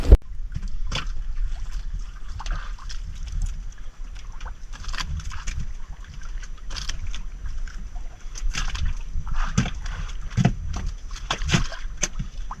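Water sloshes and splashes around a small boat being boarded at night for spearfishing, with irregular knocks and bumps, wind noise underneath, moderately close and continuous.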